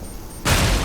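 A sudden loud explosion in the action game Lies of P, one close booming blast that cuts in sharply halfway through and holds a dense roaring tail to the end.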